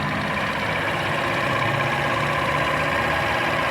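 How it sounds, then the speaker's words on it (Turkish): A Yuki Storm 125 scooter engine runs steadily at idle after a variator cleaning, a close, even, buzzing hum with no other sounds. "Motoru harbiden güzel çalışıyor."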